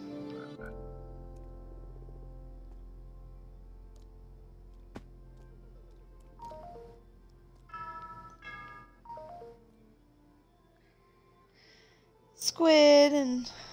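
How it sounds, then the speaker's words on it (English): A few frog croaks sound in the Minecraft video game over a quiet low hum, separate calls spaced apart, followed by a short loud voice at the end. "Froggies!"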